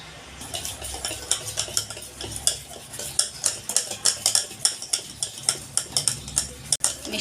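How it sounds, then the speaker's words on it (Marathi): Dhokla batter mixed with baking soda being whisked briskly in a metal bowl, producing rapid, regular clinking and scraping strokes, close and steady throughout. "मिश्रण असं फेटून घ्यायचं आहे छान"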